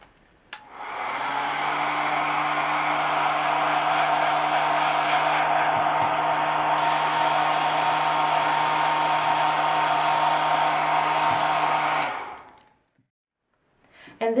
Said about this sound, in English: By using a blow dryer, we're going to start the whittling process by removing the husk from the cocoa nibs.